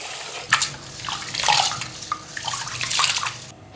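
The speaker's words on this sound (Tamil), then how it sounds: "இதுக்குள்ளே தண்ணி ஊற்றி ஒரு மூன்று நாலு தண்ணியில் கழுவி எடுப்போம்" Rice being washed by hand in a bowl of water, with splashing, swishing and sloshing bursts that come in uneven waves, close and fairly loud, and no talking.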